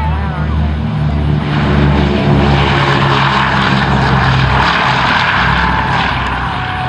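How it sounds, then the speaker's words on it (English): A Boeing B-17G bomber's propeller engines roar in a dense, steady drone as it takes off, loud and continuous throughout with no clear gaps. "Never get tired of watching that aircraft take off and land."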